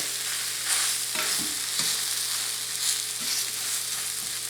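Bubble and squeak frying in a pan, a steady close sizzle with a few scraping stirs and presses of a utensil, no talking.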